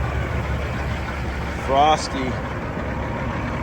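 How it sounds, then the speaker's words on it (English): A tow truck engine idles nearby on a cold, frosty morning, a steady low rumble running throughout while a voice briefly speaks over it. "tow truck's here."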